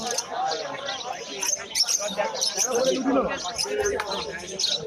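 Caged birds at a bird market on Galiff Street in Kolkata, pigeons or doves cooing and small birds chirping close by, mixed with steady bargaining voices of people talking over them.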